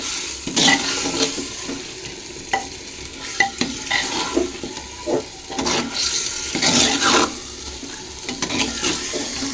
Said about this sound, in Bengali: ভালো করে মাটনটাকে কষিয়ে নেব আমি